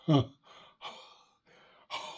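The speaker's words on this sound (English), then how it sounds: "it's picking up on my breath" Several breathy puffs and draws through a harmonica into a microphone and Pignose Hog 20 amplifier, close and uneven, with quiet gaps between each breath.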